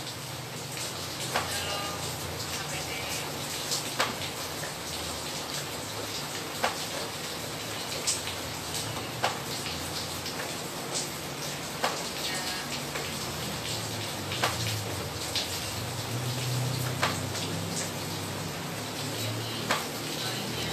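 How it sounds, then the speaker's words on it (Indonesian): Steady rain falls outside, a dense continuous hiss with scattered sharper drops and ticks throughout, constant and fairly loud, with no voice over it. "lagi hujan nih"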